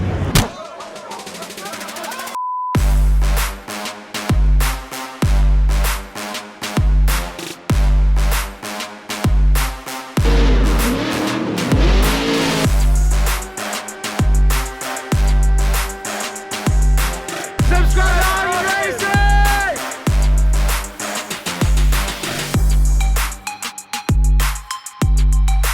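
Car drifting at a car show, repeated loud bursts of engine revving and roaring with tire noise, cutting in and out in rough rhythm, heavy and close throughout.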